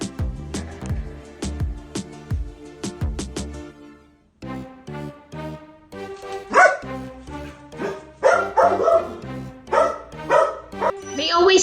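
Dogs bark excitedly in the snow by a porch in Oklahoma, giving a happy welcome: repeated loud barks and yips, some in quick bursts and others spaced apart, close by.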